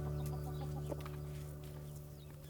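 Hens cluck softly in an orchard among fruit trees, intermittent low calls over a steady hum, faint and somewhat distant.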